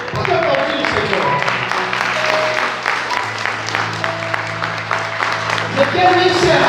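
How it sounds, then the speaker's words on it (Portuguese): A church congregation applauds after a sermon, a moderate, continuous patter of clapping with some voices and sustained tones blending underneath throughout. "Pode aplaudir o Senhor."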